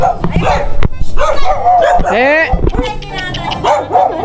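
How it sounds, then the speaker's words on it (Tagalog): Several dogs bark and yip repeatedly in the Philippines, some close and loud, with whimpering cries mixed in and people talking in the background. "Dami aso guys."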